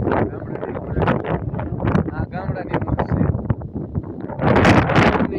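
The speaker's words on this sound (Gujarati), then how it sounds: "જો આ બધા કઈ હાથમાં ન રહે એવો પવન આવે" Strong wind blows outdoors in a village, buffeting the microphone with a steady rough roar that swells louder near the end, under continuous talking.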